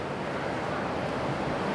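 Ocean waves rushing in at Uluwatu beach in Bali, a continuous broad wash of surf with wind noise on the microphone, steady and fairly loud with no talk.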